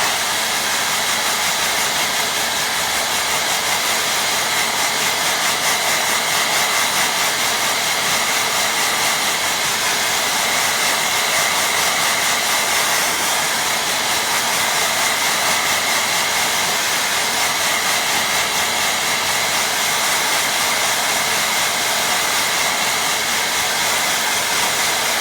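A hair dryer blows steadily onto a watercolour painting of a lake reflection. Its loud, close, continuous whooshing roar holds unbroken throughout with no talking.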